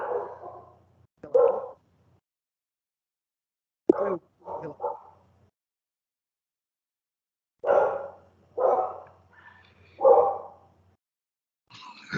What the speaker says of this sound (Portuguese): Cachorro latindo aí.